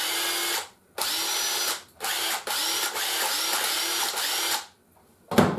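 A DeWalt DC825 impact driver runs in several bursts of about a second each, loud and close with a high whine, separated by short pauses and ending with a clunk.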